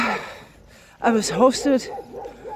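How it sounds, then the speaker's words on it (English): Village dogs along a walking route in Bulgaria bark as a pilgrim passes, a few sharp yelping barks in quick succession partway through, under and between a man's spoken words. "And now they start barking because I'm past."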